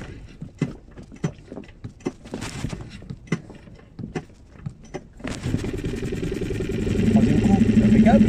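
An engine unused for a month cranks with a series of rhythmic starter turns, then catches and settles into a steady, rising idle rumble; a voice is heard briefly.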